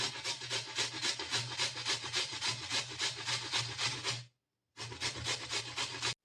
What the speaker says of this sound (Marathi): आता आपण हे किसून घेऊया